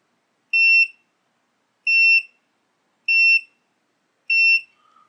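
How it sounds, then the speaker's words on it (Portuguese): Four identical loud, high electronic beeps from a digital multimeter's continuity test sound at an even pace, each about a quarter second long, separated by silence. "a continuidade é muito rápida, um bip alto"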